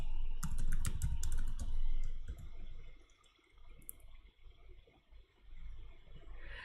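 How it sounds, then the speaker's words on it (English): Computer keyboard typing in quick bursts of close clicking keystrokes, busiest early on and then thinning into sparser taps over low background noise. "Let me just type it out on the screen."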